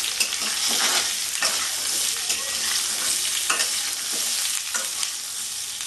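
Green mango pieces fry in oil for a Bengali chutney, a steady close sizzle with periodic scraping stir strokes sweeping through it.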